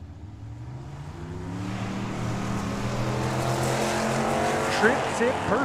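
Drag racing cars, a Camaro and a Nova, launch at Tucson Dragway with a rising engine roar that builds and fades as they pull away, a track announcer talking over it.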